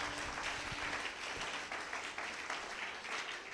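A church congregation applauds and cheers in praise of the Lord during a French-language sermon, a steady, dense wash of clapping that holds for the full stretch, fairly distant and reverberant.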